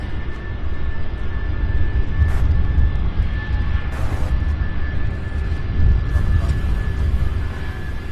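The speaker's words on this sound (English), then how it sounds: "So we have an A319 coming out of Denver. That one's coming in for short final now." A United Airlines Airbus A319 arriving from Denver comes in on short final at Louisville, its engines a low rumbling roar that swells and recedes, with a few brief louder bursts and no talk.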